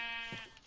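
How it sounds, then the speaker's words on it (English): A single short sheep bleat in a video game, a brief wavering cry heard faintly over a steady tonal background hum. "There's a kind of sheep."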